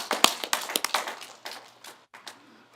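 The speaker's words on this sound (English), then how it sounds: "Let's give a round of applause to everyone who participated in Bubby's Bakery" A congregation at a Friday night Shabbat service gives a round of applause: scattered, uneven hand claps that start briskly and thin out to a few sparse claps, with no talking.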